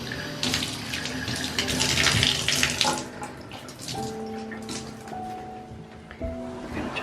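Water runs steadily from a tap to wet a grout brush for tile cleaning, a continuous splashing flow that eases off partway through as the stream changes.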